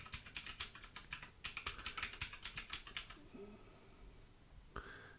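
Rapid close clicking of keys on a computer keyboard as a password is typed in two quick bursts, followed by a quieter pause and a single click.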